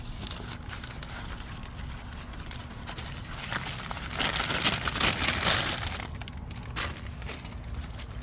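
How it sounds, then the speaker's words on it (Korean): Paper bags crinkling and tearing as they are pulled off grape clusters in a vineyard, a steady close rustle that swells in the middle, with no talking. "제가 다니면서 봉지를 하나씩 벗겨 보도록 하겠습니다"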